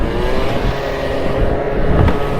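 A Piaggio Zip scooter fitted with a 50cc performance kit runs close by with a continuous buzzing engine note and a slight rise near the end.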